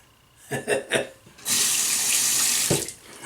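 Tap water runs into a sink to wet a razor, a steady close gush lasting over a second after a few brief clunks and handling sounds, then cut off.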